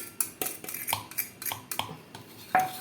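A spoon knocks and scrapes rhythmically around a wide bowl while stirring homemade yogurt with yeast, giving about a dozen close, clinking strokes with no talking.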